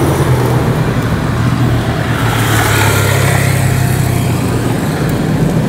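A motor vehicle passes on a mountain road in a cold hillside area with houses. The engine and tyres give a loud, steady rumble that stays close throughout, with no speech over it.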